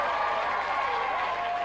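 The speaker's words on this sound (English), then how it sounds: "Good applause." A dense burst of applause from a television studio audience at a music chart show, steady and loud throughout with a few voices mixed into the clapping.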